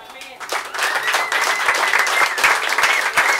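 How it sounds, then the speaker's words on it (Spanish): A church congregation bursts into applause during a Sunday service, a dense wash of clapping that swells and holds, with voices and cheering mixed in under it. "Y le damos un aplauso a Dios por ellos."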